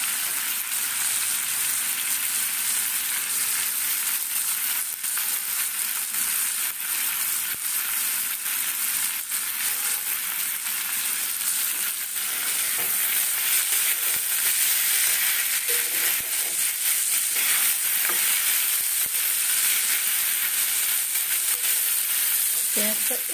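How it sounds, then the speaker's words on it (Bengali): Onion goes into potatoes already frying in hot oil, giving a loud, steady sizzle that runs unbroken throughout, with occasional scrapes of stirring and no talk. "এই আলুর সঙ্গে এবারে পেঁয়াজটা দিয়ে দেবো।"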